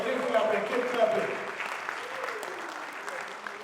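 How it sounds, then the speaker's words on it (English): An audience claps steadily through a dense, sustained round of applause at a political rally, with the sound fading a little toward the end while a voice talks over it. "Keep clapping."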